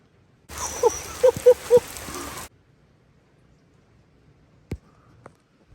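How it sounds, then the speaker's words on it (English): A brief burst of steady, rushing spring downpour hiss lasting about two seconds, then it cuts off to near silence with a faint knock later. "We are being downpoured on right now, like a spring downpour."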